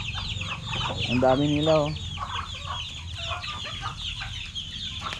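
Several backyard farm chickens cluck nearby, one giving a short rising squawk, while a person speaks briefly in Filipino over the flock.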